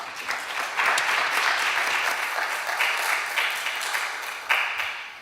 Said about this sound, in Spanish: un aplauso de bienvenida.